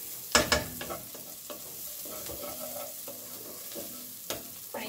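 Onion sautéing in a pan for a zucchini pasta sauce gives a low, steady sizzle, broken by several scraping stirs of a spoon against the pan, with no talking.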